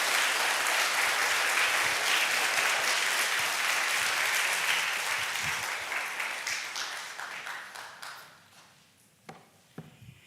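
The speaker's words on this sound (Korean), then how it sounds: "우리 목사님 나오실 때 한번 힘차게 격려의 박수로 맞이하겠습니다" A church congregation claps in welcome for a pastor during a Sunday service, dense sustained applause filling the room before thinning out into scattered final claps near the end.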